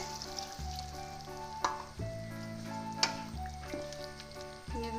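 Chilli chicken masala simmering and reducing in a pan after half a cup of water is added, with a soft bubbling sizzle, steady and fairly faint, broken by a few clinks against the pan and a low background hum.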